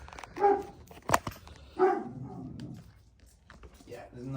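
A dog barks a few times close by in a garage where a Triumph Daytona 675 motorcycle is being worked on, with people talking in between.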